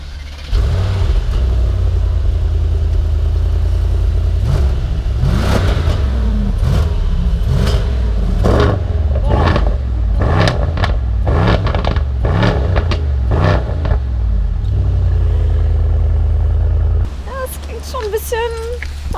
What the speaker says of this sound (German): jetzt musst du mir aber einmal schon mal das Auto anmachen. Erstmal Soundcheck hier.